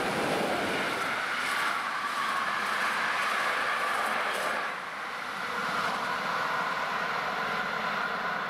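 A special train hauled by a Class 243 electric locomotive rumbles past near Meissen at steady volume for several seconds, a broad continuous roar with rattling wheels and a brief dip midway before it swells again.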